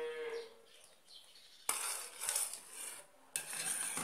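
A spoon stirring thick rice pudding in a pot, quiet wet scraping with two sharp metallic clinks against the pot's side, fairly close and soft, with a faint voice-like tone at the start.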